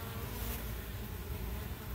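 Bees buzzing in a backyard, a steady low insect hum that runs the whole time alone at moderate level, with no voices.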